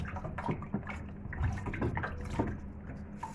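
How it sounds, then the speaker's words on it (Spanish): Vegetables plunged into a basin of clean water make soft sloshing, dripping splashes in a close, quiet kitchen, a few gentle wet bursts over a few seconds. "Los sumergimos en agua limpia"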